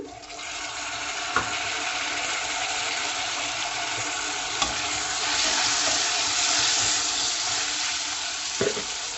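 Chopped tomatoes go into onions browning in hot oil for dhaba-style dal tadka, raising a loud, steady sizzle with occasional stirring knocks against the pan. No voices are heard.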